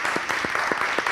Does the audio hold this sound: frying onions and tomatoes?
no